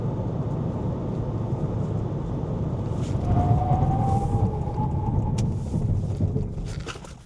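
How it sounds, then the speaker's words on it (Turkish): A 2025 Honda Civic 1.5 turbo brakes hard during a brake test, giving a loud, steady rumble of road and tire noise with a rising whine as the car slows, all without speech. "Hazır müsaitken bir de fren testi yapalım."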